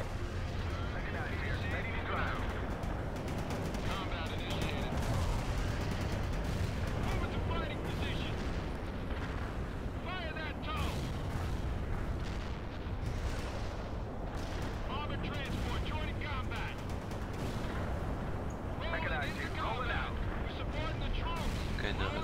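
Artillery in the war game World in Conflict booms and rumbles almost nonstop, heavy blasts and gunfire layered over one another, while someone talks over the din.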